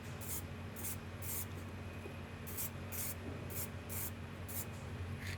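Short bursts of Dual Lux enamel gloss spray paint from an aerosol can hiss onto drilled holes in steel, about ten quick repeated sprays in a steady rhythm over a low steady hum.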